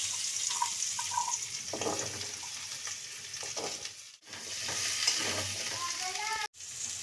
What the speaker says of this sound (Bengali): আমি এই আলুগুলো ভেজে নিচ্ছি হাতে।